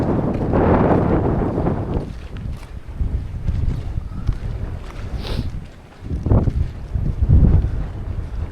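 Strong seaside wind on an island coast buffets the microphone in a steady, loud roar that swells and dips, with a brief lull before gusting again and no speech heard.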